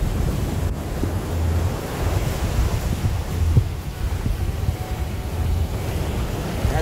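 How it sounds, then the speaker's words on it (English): Ocean surf at Condado, Puerto Rico, heard from a hotel pool, a continuous wash of breaking waves mixed with wind noise on the microphone, steady and moderately loud with no voices. "Just chilling in the pool and hearing the waves."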